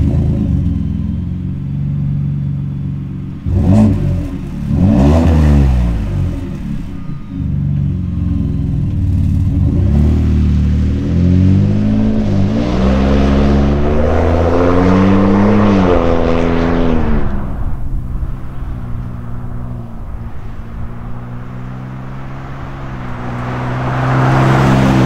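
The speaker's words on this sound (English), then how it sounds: "All right, we got the EcoBoost F-150 on the ground. Let's give it a listen." Ford F-150 EcoBoost fitted with an MBRP S5215 Street Series stainless exhaust starts up, revs sharply a few times, then pulls away under a long rising and falling throttle, loud and close with no talking.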